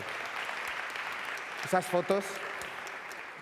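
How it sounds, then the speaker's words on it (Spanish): Applause from an audience at a youth arts and video awards gala in Aragón, a steady crowd clapping throughout with a brief spoken word in the middle. "¡Wow! Fuerte el aplauso."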